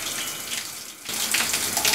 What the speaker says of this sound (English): We start by washing our right and left hands 3 times up to our wrists.